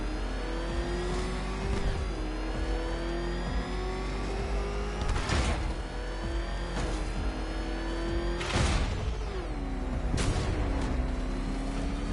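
The Batmobile's engine in Batman: Arkham Knight roars steadily, rising and falling in pitch as it revs, with several sharp bursts of acceleration cutting through the sustained drone.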